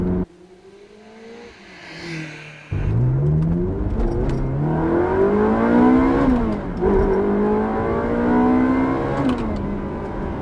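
Mid-engine Italian manual sports car revving hard toward redline, a loud climbing engine note that pulls up through the rev range, drops briefly at a shift and then rises again, close and dominant with no talking.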